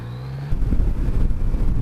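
A Yamaha Niken three-wheeled motorcycle, sharing the MT-09's motor, rumbles into a steady, close engine run after a brief tonal hum, with wind buffeting outdoors.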